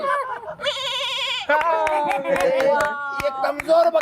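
Person imitating a goat bleat during a television game show contest, a loud quavering vocal bleat followed by further wavering bleats with clapping, audience cheering and voices.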